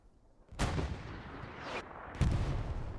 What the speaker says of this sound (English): Artillery getting a bit close there.